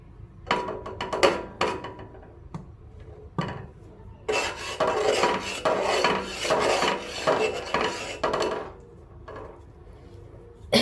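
Flour being stirred into hot water in a pot gives scraping, rasping strokes against the vessel, first in short bursts and then in a dense, steady stretch of close, loud stirring before it tapers off.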